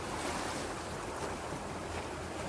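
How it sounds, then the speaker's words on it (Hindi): Sea waves wash onto a shore at night as a faint, continuous broadband hiss and rush with a soft wind-like texture. No voices are heard. "समुद्र में लहर आती जाती है"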